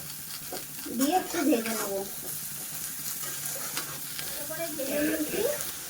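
Cauliflower sizzles steadily in hot oil with salt and turmeric while being stirred, and a voice speaks over the frying.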